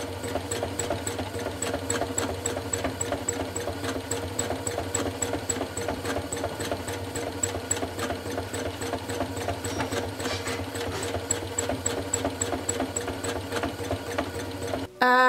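A sewing machine runs steadily for about fifteen seconds while quilting during basting, its needle clattering in a fast even rhythm and intermittently skipping stitches because of a thread problem, then stopping abruptly at the end.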